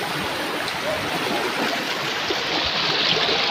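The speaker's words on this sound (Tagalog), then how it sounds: "Sobrang lakas ng current ng tubig." A strong river current rushes in a steady, dense roar at close range, unbroken for the whole stretch with no voices.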